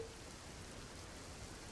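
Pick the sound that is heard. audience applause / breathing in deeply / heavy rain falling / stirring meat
heavy rain falling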